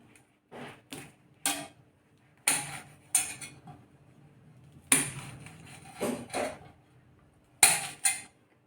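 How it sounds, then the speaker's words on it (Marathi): A knife cuts green chillies into pieces on a board, giving a series of sharp, separate taps and clicks in irregular bursts, close and fairly quiet, with no talking. "आता आपल्याला याचं देठ काढून घ्यायचं आहे आणि असे तुकडे करून घ्यायचे आपल्याला"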